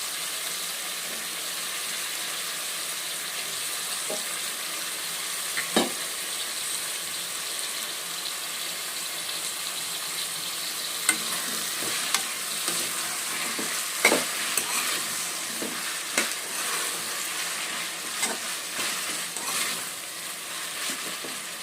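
Bottle gourd and brinjal pieces fry with tomatoes in oil in a pan, a continuous soft sizzle with a sharp clack early on and scattered spatula scrapes and taps later.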